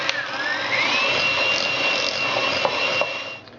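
An electric mixer whirs steadily through cake batter with lemon zest for a Madeira cake, a continuous close whine that rises in pitch at the start, holds evenly and tails off at the end.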